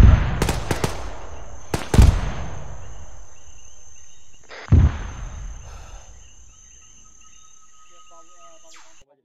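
Friendly mortar rounds go off on a patrol in several sharp, booming bangs with rumbling tails: a quick cluster at the start and another blast a few seconds later, over a thin, steady background hum.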